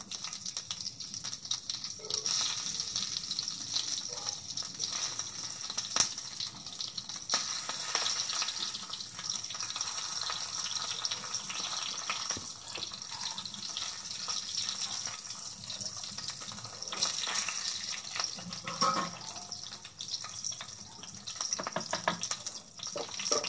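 Chilies fry in hot oil for a tadka meant for raita, giving a continuous soft crackling sizzle with scattered pops, steady and moderately close with no speech.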